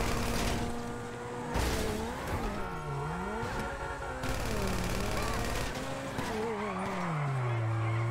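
A car in the video game GTA V Online drives with a continuous loud engine that rises and falls in pitch through revving and gear changes, with tire squeals and skidding mixed in.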